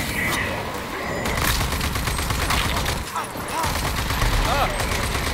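Rapid bursts of gunfire from the video game Rage 2, loud and continuous over dense game noise, with a voice speaking at moments.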